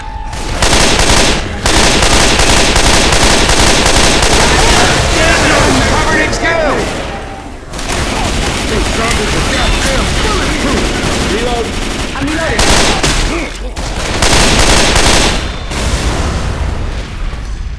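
Heavy gunfire and explosions fill a Left 4 Dead 2 firefight, loud sustained shooting with booming blasts and brief drops, with voices talking over the chaos.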